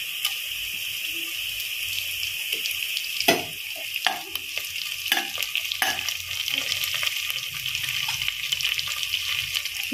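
Curry leaves fry in hot oil in a pan of pigeon pea masale bhat, giving a steady loud sizzle with a few sharp crackles and spatters partway through, close up. No one speaks.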